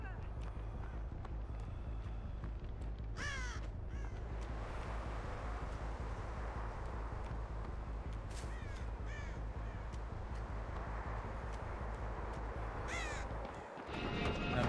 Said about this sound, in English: That bird gave you away